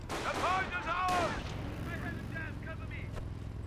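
Gunfire and artillery in the Company of Heroes 1 real-time strategy game, Panzer Elite against US forces: a couple of sharp blasts with ringing tails early on, then scattered quieter shots and rumble under a steady engine-like drone.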